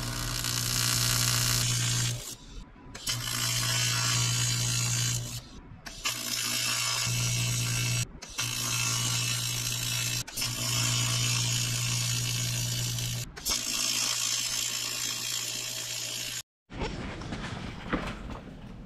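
Intercooler piping on an MK3 1.8T engine swap is welded in repeated bursts, a steady buzzing arc lasting several seconds each, broken by short pauses between passes, close and loud.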